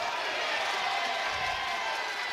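Basketball crowd in a high school gym during a Mt. Vernon Rams versus Carbondale Terriers game, with Carbondale fans clapping. The crowd noise is steady and dense throughout, and no single claps stand out.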